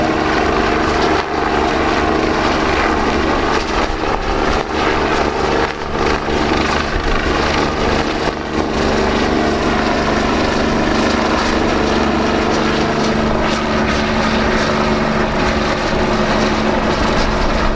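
A helicopter performs at the Cholet 2022 air show, its rotor and engine producing a loud, steady, throbbing drone that stays constant and close for the whole stretch.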